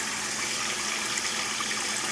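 Tap water gushes steadily into a bowl set inside a pan, a constant close hiss and splash with no pauses or voices.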